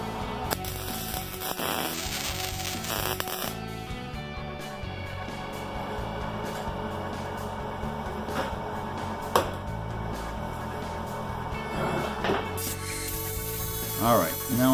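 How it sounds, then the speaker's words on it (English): Arc welding on a heavy metal brake drum, a steady crackling, sputtering hiss running continuously and fairly close, with slight shifts in intensity as the weld proceeds. "So what we'll do is weld this up."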